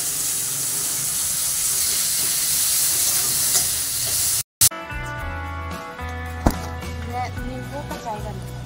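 Frying and stirring in a kadai, a steady sizzling hiss that cuts off abruptly and gives way to clattering and scraping with a sharp knock, while a voice talks over it.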